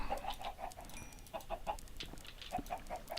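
Minecraft chickens cluck in short bursts of rapid, repeated clucks with brief pauses between groups, close but fairly quiet.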